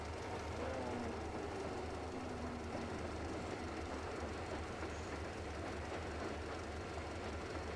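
A locomotive rolls along rails in the video game Metro Exodus, a continuous low rumble with rhythmic clatter and a faint engine hum throughout, steady and moderately loud.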